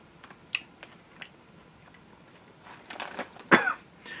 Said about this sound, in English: Oh, okay, he's coughing.